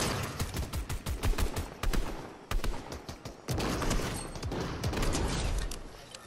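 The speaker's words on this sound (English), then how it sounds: "Oh, we got shooting from both sides." Gunfire coming from two directions in a Fortnite match: rapid automatic bursts and single sharp shots, close and loud, crowding one another through the whole stretch with brief gaps.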